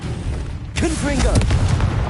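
A Confringo blasting spell goes off in the Hogwarts Legacy video game as a loud, booming burst with swooping tonal whooshes, layered over constant game noise and a shouting voice.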